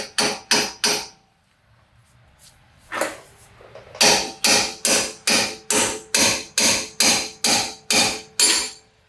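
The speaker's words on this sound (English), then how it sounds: "this is another place where the pickle fork comes in handy to get the tow arm out of here." Sharp metallic hammer strikes on a pickle fork driven between a car's rear toe arm and its mount: three quick blows, a pause with one lighter hit, then a steady run of about a dozen evenly spaced, ringing impacts.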